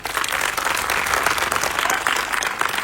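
An audience at a speech event in Patna claps for the leaders, dense and sustained applause at steady volume throughout, with no voices over it.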